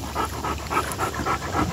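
A small dog pants steadily outdoors, quick rhythmic breaths close by and fairly loud, with faint whimpering mixed in.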